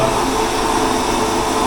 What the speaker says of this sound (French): j'ai une machine spécifique à ça, qui est là, qui sert à broyer et à enlever la coque